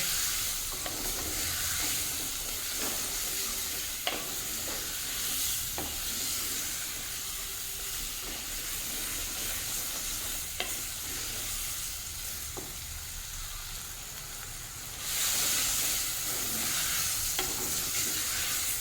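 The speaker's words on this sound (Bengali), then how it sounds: "সবজিগুলোকে ভালো করে মশলার সঙ্গে মিশিয়ে নাড়তে থাকবো" Sliced vegetables with taro and spices frying and being stirred in a pan for a spinach dish, a steady loud sizzle with scattered spoon scrapes and taps throughout, growing louder near the end.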